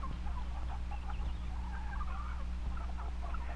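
Chickens, a rooster and a hen among them, cluck and murmur softly in a steady chorus against a low background hum, several birds close by, with no one speaking.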